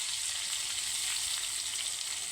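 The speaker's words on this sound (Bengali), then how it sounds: "এবার আমি কড়াইতে দিয়ে দেব টমেটো কুচি" Chopped tomato and salt fry in hot oil in a kadai for a potol chingri dish, giving a steady, even sizzle that sounds close and alone, with no talk.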